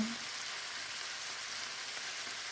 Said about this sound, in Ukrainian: І от такі класні лисички обсмажую.